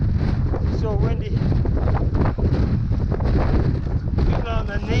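Extreme wind roars and buffets the microphone on an exposed winter fell race, a loud continuous blustering rush with heavy low rumble, while a voice talks over it.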